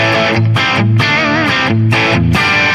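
Electric guitar with a slightly gritty, straightforward rock and roll tone, playing a steady, loud riff of repeated bass-note figures and chord stabs, alone with no talking.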